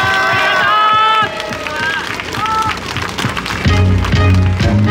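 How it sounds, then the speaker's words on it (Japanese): Audience applause at a singer's concert, beginning under the tail of tonal music, then a dense, loud mass of clapping with crowd murmur and a low humming tone toward the end. "一人一人に大きな拍手をお願いします。"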